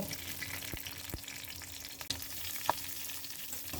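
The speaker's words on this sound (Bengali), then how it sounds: "একটু তেল দিলাম, মতো কাঁচা মরিচ দিচ্ছি আর পেঁয়াজ দিচ্ছি, একটু ভেজে নেব।" Green chillies and onion frying in a little oil for a Bangladeshi vorta, a soft even sizzle with a few light clicks of a spoon against the pan, fairly quiet and with no voices.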